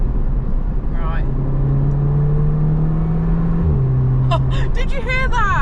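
Engine of a MK2 Audi TT in manual mode accelerating, a droning tone that climbs, then drops sharply at a gear change, heard from inside the cabin under steady road roar, with talking in the car.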